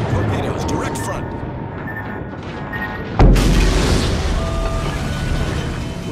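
A torpedo strikes a warship in World of Warships with a single loud, deep boom about halfway through, followed by a sustained rumbling wash over steady background engine and sea noise.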